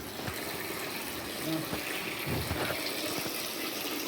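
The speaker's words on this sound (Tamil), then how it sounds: "கொஞ்சோண்டு தண்ணி மட்டும் ஆட் பண்ணிக்கணும்" Water pours steadily into a pot, a continuous splashing gush with a few clinks of metal, fairly close.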